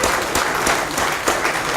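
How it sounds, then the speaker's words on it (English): Crowd applause for Ghanaian football legends at the WAFU 2017 Cup of Nations draw: steady, dense clapping from a large audience, loud and sustained throughout. "Let's put our hands together for them."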